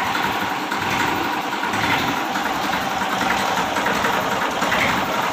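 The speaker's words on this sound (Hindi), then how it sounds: "देखो ट्रैक्टर की आवाज़ सुनवाएंगे" A Massey Ferguson 1035 tractor engine, a 2000 model, idles close by outdoors, a steady loud rumbling drone with no talking over it.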